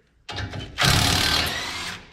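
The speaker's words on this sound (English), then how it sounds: "if you have a rattle gun, you can just hold this end of it with a pair of multi-grips and it'll undo" Pneumatic rattle gun undoing a ball joint nut on a Toyota Hilux, a brief buzz then a louder sustained mechanical whirr close up, running steadily for over a second before easing off.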